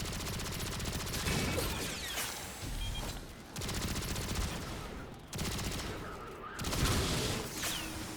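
Xenophage fire in Destiny 2, heard as a dense, steady barrage of shots and explosive noise with little break, loud and close throughout.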